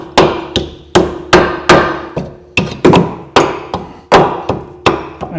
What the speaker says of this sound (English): we'll normally get a hammer.